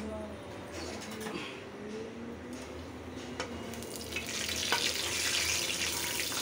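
Cooked lentil dal is tempered in hot oil with onion, giving a steady sizzle that swells into a louder, brighter frying hiss toward the end, with faint voice in the background.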